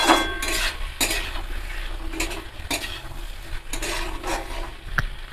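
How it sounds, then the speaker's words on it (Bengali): A utensil stirs and scrapes an onion and tomato masala around a pan in repeated strokes, metal clinks and knocks over a steady soft sizzle, close and alone without talk. "আমি এবার ভালো করে নাড়িয়ে নেব।"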